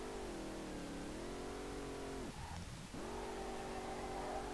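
A car engine in SLRR howls at steady high revs while drifting downhill, dips briefly through a shift and then climbs back, a continuous moderate drone with no voices.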